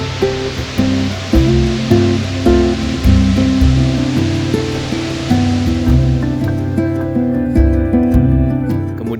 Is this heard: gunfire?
no